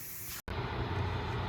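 Black spray paint hissing from an aerosol can, a steady broadband spray that cuts out briefly and then resumes, continuous and fairly close with no talking.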